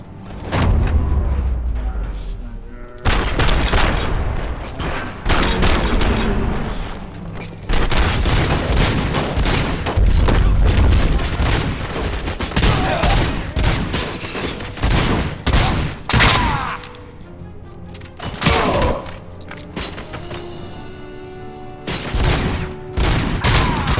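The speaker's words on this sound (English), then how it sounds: "Why is my gun all of a sudden... Yeah, it should be one shot. Why is it multiple shots?" A gun firing multiple shots in the video game Robocop: Rogue City: loud, rapid bursts of gunfire with deep booms, repeated across the clip amid mechanical game sounds and brief pauses.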